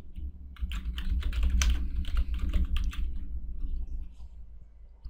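Steady typing on a computer keyboard, a continuous run of close, fairly loud key clicks at an uneven rhythm while text is entered, with no voices.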